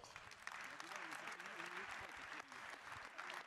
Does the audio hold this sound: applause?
yes